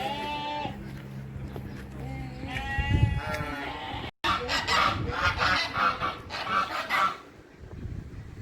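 Several sheep, goats and lambs bleat in quavering calls at a hobby garden in Istanbul through the first half, followed by a busier stretch of overlapping animal calls and outdoor noise.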